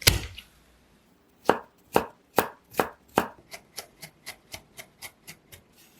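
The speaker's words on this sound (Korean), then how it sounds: "마늘 4톨은 다져주세요" A kitchen knife minces four garlic cloves on a board, a few heavy separate chops followed by a quicker run of lighter, steady taps, close and clear with no voices.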